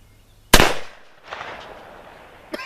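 A Remington black powder revolver fires a single sharp, loud close shot, followed by a softer echoing tail and a brief later knock.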